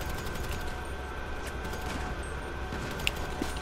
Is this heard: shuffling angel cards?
no